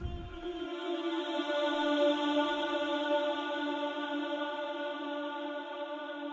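The Ambience Vox 1 vocal chant sample from an Afrobank pack, used in an Afrobeats beat: a sustained, layered, airy vocal drone that holds steady and alone for several seconds after a brief low thump at the start.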